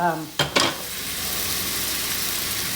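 Vegetables sauté in olive oil with a loud, steady sizzle, broken early by a couple of sharp bursts as they are stirred or tossed in the pan.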